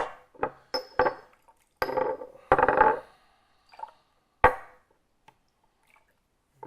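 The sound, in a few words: water poured to rinse pu-erh tea leaves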